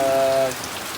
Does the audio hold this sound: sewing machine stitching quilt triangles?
no